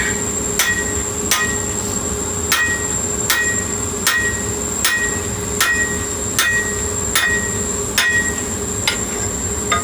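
Steady, ringing metallic hammer blows on hot steel strike about once a second while hand-punching a hammer eye, a dozen or so evenly spaced impacts over a constant background hum.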